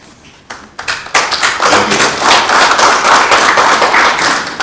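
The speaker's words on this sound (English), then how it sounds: "Please give him a big round of applause for walking us through this beautiful morning." Audience applause at a youth policy dialogue: a few scattered claps quickly swell into dense, steady clapping from many hands that fills the room and holds loud to the end.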